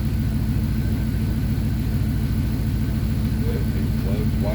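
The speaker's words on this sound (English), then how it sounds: "This truck sounds better than the silver truck." A Dodge Dakota R/T pickup's 5.9 engine idles steadily with a smooth, even low rumble, close and constant from start to finish.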